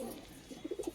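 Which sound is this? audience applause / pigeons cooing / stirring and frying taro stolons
pigeons cooing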